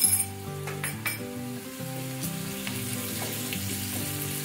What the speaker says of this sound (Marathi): आल्या लसणाची पेस्ट उग्र वाज जाईपर्यंत थोडा वेळ परतायची